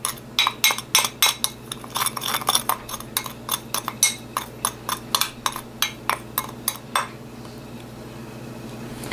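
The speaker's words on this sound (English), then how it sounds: "We're gonna mix the two together." A utensil scrapes and clinks against a bowl in a quick steady rhythm while blended rice is mixed with another ingredient for a skin-care paste, close and crisp, then the mixing stops, leaving faint room noise.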